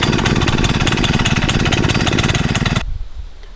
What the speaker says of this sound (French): Donc on va démarrer notre moteur.